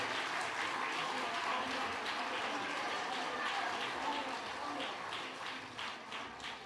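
A church congregation applauds steadily at a revival service, a dense wash of clapping that holds for several seconds and tapers slightly near the end.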